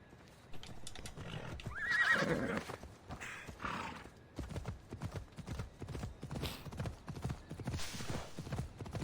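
Horse in Assassin's Creed Odyssey galloping with steady rapid hoofbeats and a loud whinny early on, close and prominent throughout, with some game sounds layered in.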